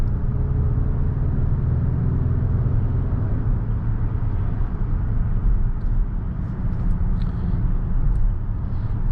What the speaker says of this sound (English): I mean, a V6 just sounds so good.